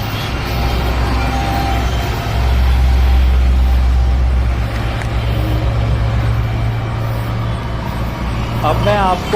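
Jammed traffic on the road below the FNG road bridge near Sorkha village, heading toward Noida West: a steady rumble of cars, buses and trucks with idling engines and a brief air-brake hiss, while someone talks over it.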